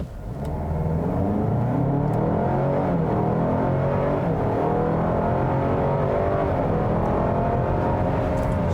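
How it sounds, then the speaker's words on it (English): A 2021 Buick Envision ST front-wheel-drive SUV engine accelerates hard, a strong sustained roar with rising, shifting pitch heard from inside the vehicle, no talking. "I just want to put my foot down once again."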